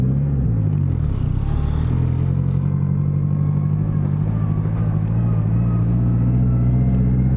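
A Nissan 240SX drives along with a loud, steady low engine drone and rumble heard from inside, with faint road clatter underneath.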